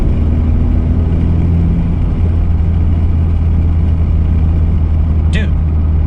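A 2020 Honda Civic Si idling with a MAPerformance street exhaust, a steady low rumbling drone heard from inside the cabin with the windows nearly closed, with a voice talking faintly over it.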